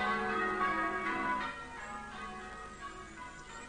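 The great tenor bell of a village church in the Chew Valley tolls with a deep, sustained ringing whose hum lingers and slowly fades, with no voices.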